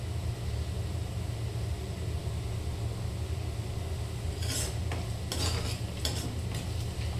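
Onions and tomatoes cooking in a pan give a steady, dense sizzle throughout, with a few brief scraping stirs of a utensil near the end, close and without talk.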